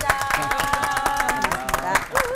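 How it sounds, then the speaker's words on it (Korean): Studio audience applause in a church TV broadcast, brisk dense clapping from a small group, close and lively, with a voice speaking over it toward the end. "감사의 박수 다시 한번 드리겠습니다"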